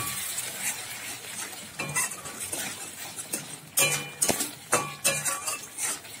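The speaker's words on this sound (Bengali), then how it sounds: "ভালো করে মশলাটা কষিয়ে নেব।" Ginger and green chili paste with red chili powder fries in a pan, a soft sizzle under repeated scraping and clinking strokes of a spoon stirring the masala, growing louder and more rhythmic toward the end.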